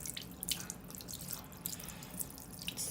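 Water from a tap pours over hands being rinsed in a sink, giving a gentle steady stream with scattered splashes and drips, heard close up and quiet without speech.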